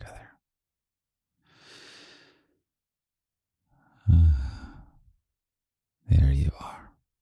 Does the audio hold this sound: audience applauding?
no